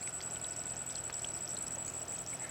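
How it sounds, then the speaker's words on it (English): A small solar-powered bubbling fountain in a garden birdbath gives a steady, even gurgle and trickle of water that runs continuously without breaks, close and moderately quiet. "By putting in this little solar bubbling fountain, it will attract dragonflies."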